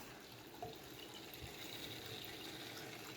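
A replacement water pump in a PC water-cooling loop on a dual Xeon AliExpress build runs steadily, giving a continuous low hum with a watery rushing hiss, close and even throughout with no talking.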